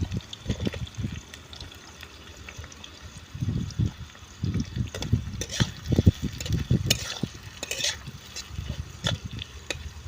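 Masala with onion and garlic fries in a pot over an outdoor fire, with irregular bursts of sizzling and stirring scrapes rising and falling close by under a steady background hiss.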